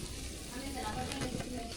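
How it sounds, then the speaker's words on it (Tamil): Sambar in a pot being stirred after sambar powder, coriander, turmeric and chili powders go in, with soft scraping and a faint sizzle, quiet and close, no talk. "மசாலாவெல்லாம் சேர்த்தாச்சு நல்லா கலந்து விட்டுக்கலாம்"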